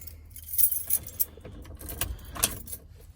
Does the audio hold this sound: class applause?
no